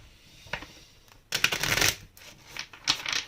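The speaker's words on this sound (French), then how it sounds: "On va sortir les autres cartes." Tarot cards slid from a deck and laid down in a few quick papery bursts, one long shuffle-like swipe followed by shorter flicks, close and fairly loud with no talk.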